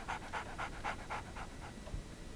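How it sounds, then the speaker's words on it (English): A dog in a Sherlock Holmes adventure game pants quickly and evenly, about seven short breathy puffs that fade out, heard faintly and fairly close against a quiet hum. "je me disais bien qu'on entendait un chien"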